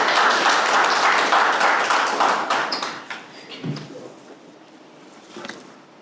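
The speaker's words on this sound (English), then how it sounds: "Please let's give him a round of applause." An audience at a digital rights forum applauds loudly at first, then the clapping thins and fades within a few seconds, leaving a few scattered claps and taps.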